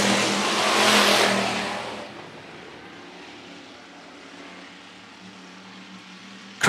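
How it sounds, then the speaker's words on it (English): IMCA Hobby Stock race cars roar past at Phillips County Raceway, a loud engine pass swelling then fading into a distant rumble of the field circling the dirt oval. "15 laps your distance for your IMCA Hobby Stocks"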